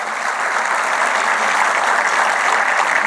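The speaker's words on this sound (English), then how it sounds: "Give him a big round of applause" A large audience applauds a hearing-impaired prize winner at a National Voters Day celebration in 2024, producing steady, dense, loud clapping that fills the whole stretch without a break.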